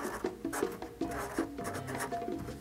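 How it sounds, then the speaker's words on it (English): A permanent marker writes a date on a kick drum head, giving a series of short squeaky strokes and soft scratchy rubs at close range, with no voices. "Take a permanent marker and indicate the month and year right above the stamp."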